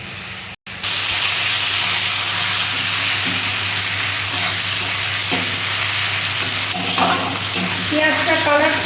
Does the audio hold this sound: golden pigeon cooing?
no